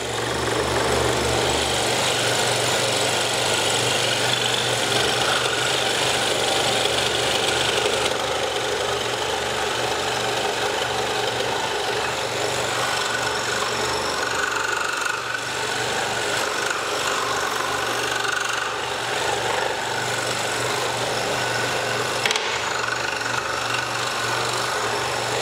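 Scroll saw cutting the outline of a thick wooden Shalom star carving, a steady loud motor hum with continuous buzzing blade chatter running unbroken throughout, no talking.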